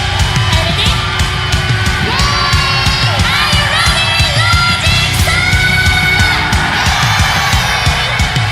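Dense Japanese concert crowd at a show cheering and yelling loudly, with high-pitched shouts and whoops layered over a constant roar that runs unbroken throughout.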